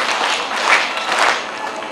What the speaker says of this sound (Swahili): Tuwapongeze kwa makofi matatu ya nguvu